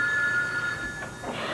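An old-style telephone bell rings in a home, a faint trilling ring that is heard once and fades out.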